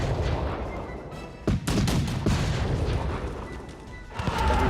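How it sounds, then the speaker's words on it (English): Artillery fire in the Napoleonic board-game adaptation Victory and Glory: Napoleon, a series of loud booming cannon blasts over a rumbling battle background, with no talking. "we have to try to take out his artillery."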